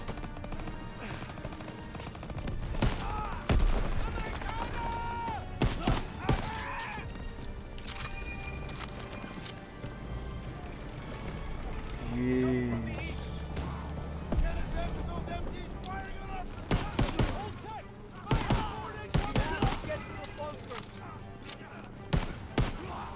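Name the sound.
grenade explosion and gunfire in Call of Duty: WWII video game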